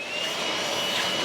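A battery-powered handheld blower runs in a steady, close, airy whoosh, used to clean radiator screens, with no talking.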